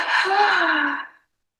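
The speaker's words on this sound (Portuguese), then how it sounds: "você faz 3 inspirações e uma expiração" A single long, breathy exhalation, fairly close and clear, trailing off to silence after about a second, part of a breathing exercise built on short inhalations and one exhalation.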